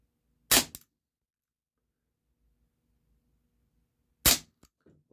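A Walther P38 4.5mm BB pistol firing Smart Shot BBs, two sharp, loud cracks about four seconds apart, each followed by a faint impact and handling clatter in otherwise near silence.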